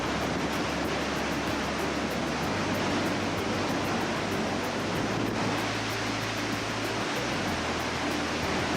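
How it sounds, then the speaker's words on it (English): The Yellowstone River rushes through the Grand Canyon of the Yellowstone below the Lower Falls, a loud, unbroken roar of water from start to finish. "From the lower falls, the river flows through the Grand Canyon of the Yellowstone"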